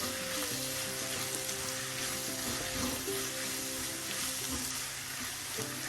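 Onions and warmed masala powders sizzle steadily in a hot pan for squid masala, a continuous crackling fry with faint stirring scrapes and no talk.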